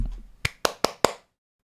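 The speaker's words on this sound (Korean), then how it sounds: "박수!" Four crisp hand claps in an even, quick rhythm, close and fairly loud, after a moment of quiet room tone, then silence.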